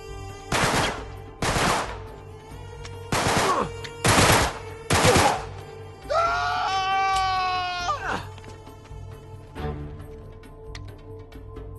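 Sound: sniper gunfire in the video game Uncharted 3

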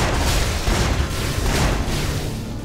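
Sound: explosion shot blasts in the video game Torchlight

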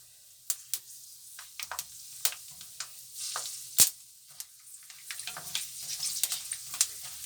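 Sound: food sizzling while frying in a pan

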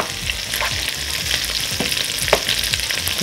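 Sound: meat and rice frying in a pan

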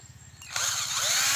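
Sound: power drill twisting wire

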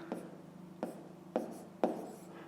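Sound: writing by hand

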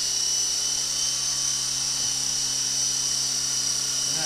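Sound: Intercepter 052 RC helicopter hovering

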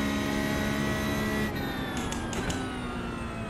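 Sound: race car engine driving a lap on track

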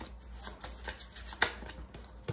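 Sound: shuffling a deck of tarot cards

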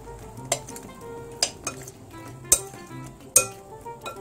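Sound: mushrooms being tossed and coated in sauce

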